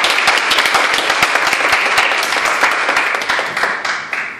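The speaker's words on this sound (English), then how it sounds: "A round of applause please." A Toastmasters club audience gives the day's speaker a round of applause, dense rapid clapping from many hands, loud and close, holding steady for over four seconds before starting to thin out.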